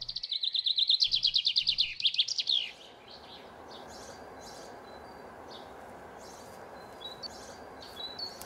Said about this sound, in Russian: Да я только птичек слышу